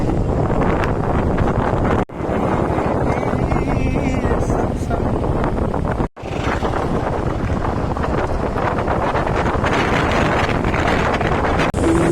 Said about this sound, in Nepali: आज चाहिँ यति दामी हावा चलिरहेको छ नि